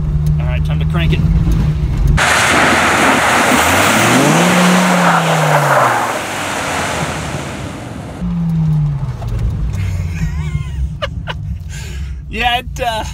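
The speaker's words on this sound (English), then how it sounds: "Now I'm gonna try turning and flooring the accelerator" A Dodge Viper with the accelerator floored through a turn roars loudly as its tires lose traction, the engine note rising and falling in a long sweeping surge with tire noise and a voice speaking near the end.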